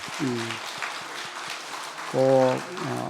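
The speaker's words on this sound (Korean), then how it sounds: "박수 한번 냅시다" A church congregation claps with a soft, scattered patter during a Sunday service while voices call out briefly over the applause.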